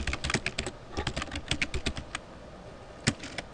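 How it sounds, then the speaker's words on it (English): Fingers type on a computer keyboard in quick, uneven bursts of close clicking keystrokes, pausing briefly and then ending with a few isolated taps. "I'm going to type in the title."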